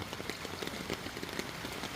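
Rain falls in a steady, dense hiss on surfaces in a flooded village during Typhoon Carina, a continuous close wash of drops with no voices over it.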